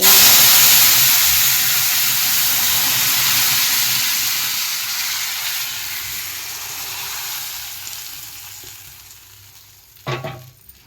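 Garlic, cumin and mustard seeds tempering in hot oil give a loud, close hissing sizzle that slowly fades, ending with a brief sharp clatter of a utensil against the pan.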